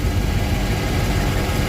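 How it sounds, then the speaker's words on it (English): A Volvo Penta marine engine on a Regal boat runs dry on land with loose exhaust clamps, a loud, steady low idle drone close by and without voices. "Motor sounds good."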